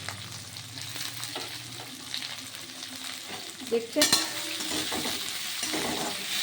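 Onion and tomato frying in a pan for a Bengali pea ghugni, with steady sizzling and occasional stirring scrapes, close and continuous, a brief spoken word partway through.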